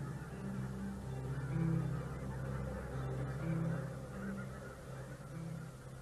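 Flock of geese near Vancouver honking repeatedly in overlapping calls, a steady chorus of loud nasal honks from birds close by, with no voices.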